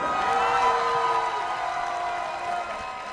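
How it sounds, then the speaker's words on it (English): Crowd applause and cheering greet a kickboxer, Kit Ruddock, at an FFC fight night, a dense steady roar of clapping that holds for the whole stretch with a sustained tonal sound running through it. "let's hear a warm round of applause for Kit Ruddock"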